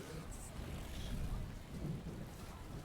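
Rain and rolling thunder from a rain cloud cosmetic in the video game Warframe, a steady soft patter with low rumbles, faint in the background.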